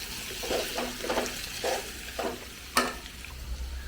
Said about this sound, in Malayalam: 1 മിനിറ്റ് മതി, ഒന്ന് ഇളക്കി കൊടുക്കാം.